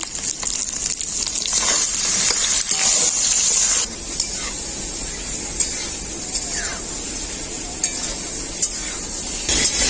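Eggplant slices cut into long strips and seasoned with salt and turmeric fry in oil in a wok, giving a steady loud sizzle with occasional pops and utensil clicks, with no voices.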